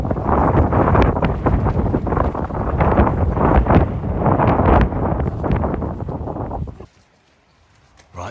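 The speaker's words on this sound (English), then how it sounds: "Flipping heck, it's windy" Strong gusts of wind buffet the microphone at a UK campsite beside a large family tent, a loud, roaring rumble that surges for about seven seconds before dropping suddenly to near quiet.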